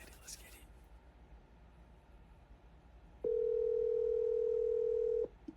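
An unanswered outgoing business call gives one steady ringing tone of about two seconds, loud and clean over a faint, quiet line hiss.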